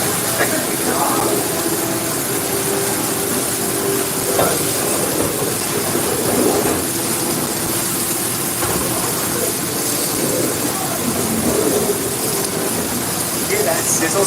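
Chicken sizzles steadily in a hot skillet, a constant broadband hiss, while people talk over it.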